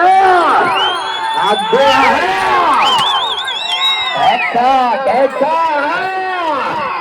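A large crowd at a village agricultural competition cheers and shouts, many overlapping whoops and yells rising and falling continuously, loud and close, with voices calling over one another.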